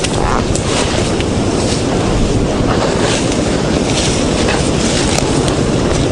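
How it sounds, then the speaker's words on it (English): Strong wind buffets the microphone during a fast motorcycle ride, a loud, steady roar that fills the whole stretch with no voices. "Oh, it's just the wind."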